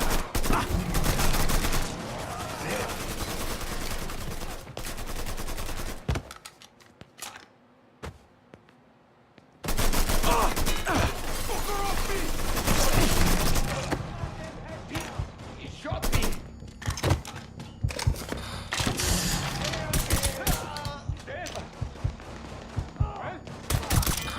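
Heavy gunfire from the video game Mafia 3, loud sustained bursts and fusillades with a brief lull, mixed with shouted speech over the shooting.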